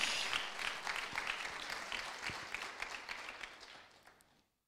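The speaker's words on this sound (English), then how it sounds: "Come on, clap for Jesus" Church congregation clapping for Jesus during a sermon, a dense crowd of hands applauding steadily at moderate distance, slowly thinning and fading out near the end, with no talk over it.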